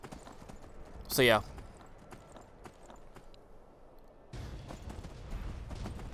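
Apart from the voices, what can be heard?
horse hooves clip-clopping in Skyrim video game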